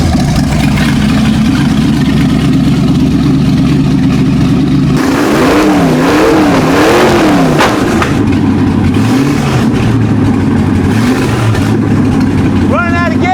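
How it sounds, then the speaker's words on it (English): A small engine runs after its carburetor was cleaned in Pine-Sol, a loud close drone that revs up and down in several wavering surges before settling back to a rougher idle. "So I'm going to fire it up again and give it a little more timing."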